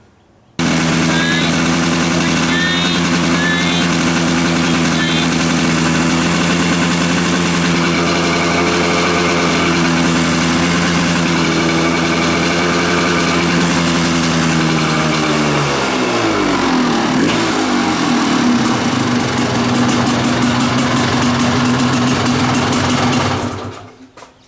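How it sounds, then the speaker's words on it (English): A rough, ragged two-stroke Kawasaki dirt bike engine runs continuously up close and loud, buzzing unevenly with fluctuating revs, dipping and shifting pitch midway before cutting off near the end. "This is a rough and raggedy two-stroke."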